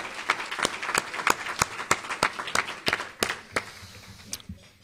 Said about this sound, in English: Please give a round of applause for Suzette Gehl